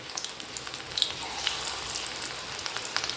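Prawns deep-frying in oil for a spicy prawn roast give off a steady, dense sizzle with fine crackling pops, constant and fairly quiet throughout.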